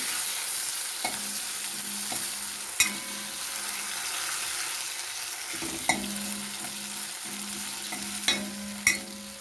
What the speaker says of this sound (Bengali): এবারে টমেটোটা দিয়ে দিচ্ছি টমেটোটাকে একটু ভেজে নেব